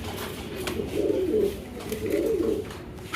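Fancy pigeons coo close by, two low, rolling coo phrases rising and falling against a steady background hum.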